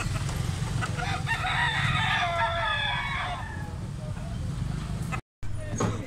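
A Boston bloodline rooster, one of a group of yellow-legged, big-sized chickens, crows once in a drawn-out call near the start over a steady low farmyard hum, followed by a brief dropout and some nearby clucking.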